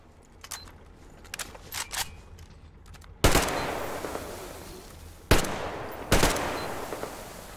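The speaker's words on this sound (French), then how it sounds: "J'ai claqué beaucoup de balles." Gunfire in Metro Exodus, Sam's Story DLC: a few quick faint shots early on, then three loud blasts with long ringing decay, standing alone without talk.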